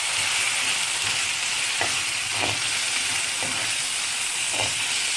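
Tomatoes sautéing in a pan for Chettinad manathakkali kulambu give a steady, bright sizzle throughout, broken by a few evenly spaced scraping clicks as they are stirred.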